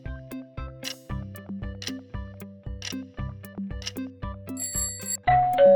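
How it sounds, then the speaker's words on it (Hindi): A repeated two-tone electronic doorbell chime rings about ten times in steady rhythm, loud and close, ending with a brief noisy burst. "डोरबेल"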